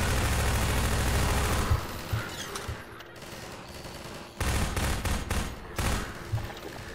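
Gunshots in Half-Life 2, a sustained fusillade of rapid rifle and machine gun fire, loud and close at first, then sparser bursts with brief pauses before firing resumes.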